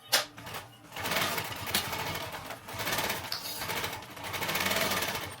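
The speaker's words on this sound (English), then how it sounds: "And now we'll go ahead and stitch the siding on." A sewing machine runs in several bursts while stitching the siding onto a simple homemade backpack, a whirring mechanical rattle that starts, pauses briefly and picks up again, close by with no talk.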